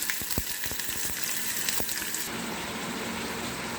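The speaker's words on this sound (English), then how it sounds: "So meanwhile the onion gets roasted and deep fried till the red color coming" Onion frying in hot oil with panch phoron spices for a stuffed bitter gourd dish, giving a steady close sizzle with a few sharp crackles and pops early on, then settling into an even hiss with no voices.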